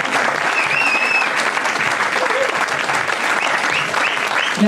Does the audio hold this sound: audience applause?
yes